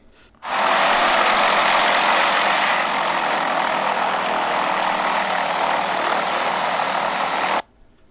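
A small blimp drones through a cloudy night sky over a city, a loud steady broadband engine and propeller roar that swells in abruptly, holds for about seven seconds, then stops sharply, with no voices.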